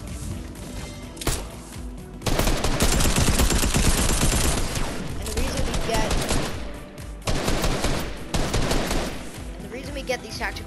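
Rapid bursts of tactical SMG gunfire from Fortnite come in several dense volleys separated by short pauses, loud and close.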